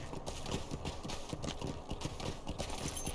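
Horse hooves clip-clop in a quick, steady rhythm as a mount is ridden in Lord of the Rings Online, close and continuous.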